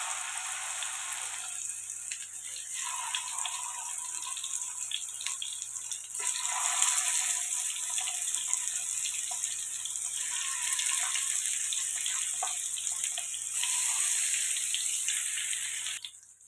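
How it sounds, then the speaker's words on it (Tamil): Seer fish (vanjaram) slices fry in hot oil, a continuous bright sizzle that holds steady and swells louder partway through, with no talk over it. "எண்ணெய் காஞ்சிடுச்சு ஒரு ஒரு மீனாக எடுத்து வச்சுக்கலாம்"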